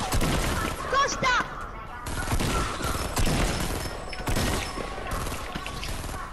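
Dense, sustained volleys of gunfire in a shooter video game, rapid overlapping shots rattling on without pause, loud and close, with a voice speaking over the firing.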